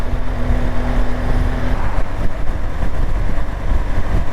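A BMW GS1200 motorcycle on the move, with a steady low engine drone under heavy rushing wind noise, loud and continuous throughout, and a faint tone that drops away partway through.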